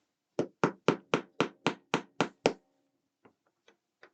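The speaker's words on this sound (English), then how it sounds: "Probably need my hammer for this one." A hammer taps a pin through two parts of a Transformers movie Optimus Prime model kit. Nine crisp, evenly spaced knocks ring out close by, followed by a few faint, scattered taps.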